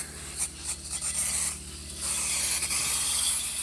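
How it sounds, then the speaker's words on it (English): Glass cleaner sprayed from an aerosol can, several bursts of hissing spray mixed with rubbing and scrubbing noise, close and fairly loud. "I'm just using my leftover can of glass cleaner. Spray some more on there."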